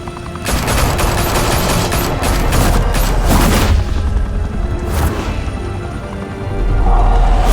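Heavy gunfire erupts at the Skyline Club, a high-rise mafia hangout in Batman: The Telltale Series, with dense continuous bursts and booming impacts throughout, loud and close, easing briefly before swelling again at the end.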